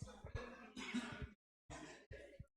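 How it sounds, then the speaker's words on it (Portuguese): A man clears his throat a few times in short, harsh bursts, close to the microphone, with a brief pause in the middle of the sequence. "Desculpem, deu uma pigarro aqui."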